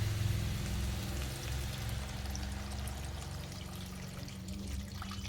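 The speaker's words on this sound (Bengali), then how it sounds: "এখন আমি জল দিয়ে দেবো।" Water poured steadily into a cooking pan, a continuous rushing, splashing pour that holds level throughout without pause or talking.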